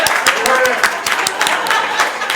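Brief, close applause from an audience at a school board trustee candidates forum, a few seconds of scattered hand claps with voices murmuring underneath.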